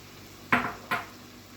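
A spoon clinks twice against a cooking pot while stirring peeled tomatoes into softened onions and colored peppers for Italian-style chicken lasagna, two sharp metallic taps in quick succession over a quiet background.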